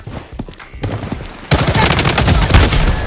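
Gunfire from a SCAR rifle in the mobile shooter Blood Strike, with a Blood Vengeance skin: quieter in-game movement sounds, then from midway a loud, sustained burst of rapid automatic shots that fills the rest of the clip.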